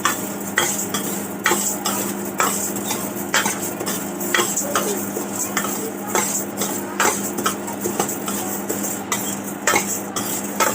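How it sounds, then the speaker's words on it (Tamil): Lentils dry-roasting in a pan are stirred with a utensil, giving repeated scraping strokes in an uneven rhythm over a faint sizzle, close and clear without speech. "பருப்பு நல்லா கொஞ்சம் லைட் ப்ரௌன் வர மாதிரி நம்ம வறுத்துட்டே இருக்கோம்."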